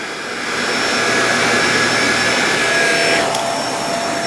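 A Shark Apex DuoClean Zero-M powered lift-away vacuum cleaner makes a forward pass over the floor, a loud steady close whirring roar with a faint pitch shift near the end, no speech.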